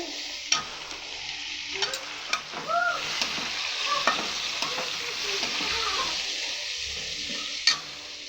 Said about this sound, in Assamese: অলপ সময় আৰু ভাজি ফ্ৰাই কৰি ল'ম